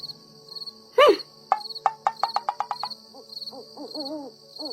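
An owl hoots at night in a forest, a clear series of close hoots in a quick rhythm, with crickets and insects chirping steadily behind it.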